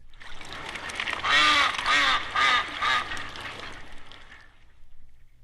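Wah-wah guitar mimics a duck with a few squawky, quacking bursts in a short rhythmic run, loud and up close, then fading.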